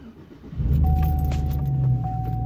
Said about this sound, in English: So let me turn the truck on here.